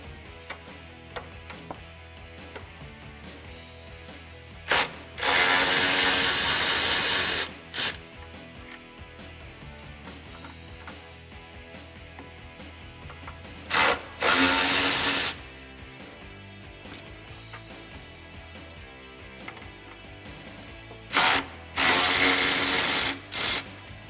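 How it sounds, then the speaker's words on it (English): A power tool fitted with a 10mm socket runs in three short bursts of a few seconds each, spaced well apart, as it backs out the bolts holding a fog light on a 2013-2018 RAM 1500 pickup. "The 3 bolts around here are all 10mm, so grab a 10mm socket and let's get these removed."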